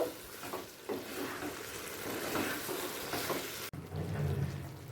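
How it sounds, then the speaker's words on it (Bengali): Paneer cooking down with spice masala in a pan over a medium-high gas flame, giving a dense continuous sizzle with faint stirring scrapes, then a brief cut to a lower, wetter bubbling. "গ্যাসের ফ্লেমটাকে মিডিয়াম টু হাইয়ে করে দিয়ে পনিরের সাথে পুরো মশলাটা খুব ভালো করে কষিয়ে নেব"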